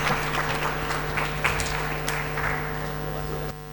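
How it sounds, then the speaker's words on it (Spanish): An audience at a constitutional ethics conference in Bolivia gives a brief round of applause, dense steady clapping in a hall over a low hum, cutting off abruptly near the end. "Recibimos con un fuerte aplauso"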